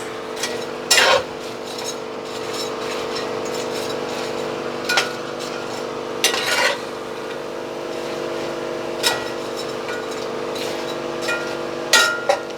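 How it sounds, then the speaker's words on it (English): Beef frying crisp for Mongolian beef, a steady sizzle in the pan broken by occasional sharp clinks of a utensil against the metal. "And you hear how crispy that beef is?"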